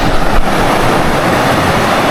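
Strong ocean waves at high tide roar continuously at a fishing spot, a loud broadband wash of surf mixed with wind buffeting the microphone, with no talking.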